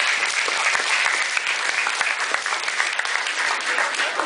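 A school auditorium audience gives volunteers a dense, steady round of applause, many hands clapping at once, loud and close, holding without a break from start to end.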